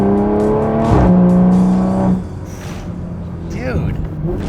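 A car with a dual-clutch transmission revs hard close by, its engine tone climbing and then dropping sharply with quick gear shifts before pulling again at a lower pitch.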